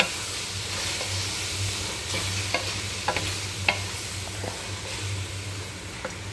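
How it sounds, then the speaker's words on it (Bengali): Chicken breast being stir-fried in a pan, a steady hissing sizzle close by over a low hum, punctuated by repeated spatula scrapes and light clacks against the pan at irregular intervals, with no speech. "হ্যাঁ, সুন্দরভাবে কষানো হয়ে গেছে।"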